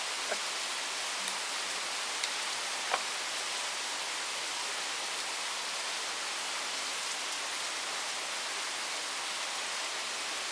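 Steady rain hisses during a thunderstorm in Charlotte, North Carolina, as an even, continuous wash of noise with a few faint drips and taps and no voices.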